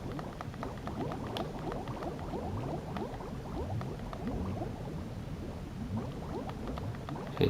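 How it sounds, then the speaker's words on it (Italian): Pumped-up seawater pours into a flooded building in Metal Gear Solid 2, a continuous rushing, bubbling cascade that stays steady and moderately loud for several seconds with no voices over it. "The seawater that's been pumped up is pouring into the building."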